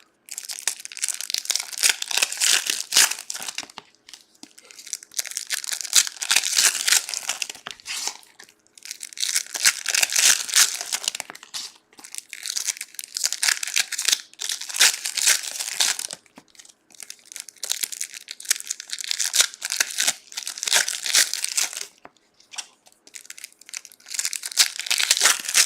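Pokemon card booster packs, Surging Sparks among them, torn open one after another, with loud close wrapper crinkling and tearing in repeated bursts separated by brief pauses.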